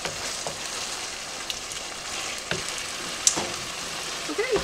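Beef sizzling in a skillet for burritos, a steady close frying hiss with a few scrapes and stirs.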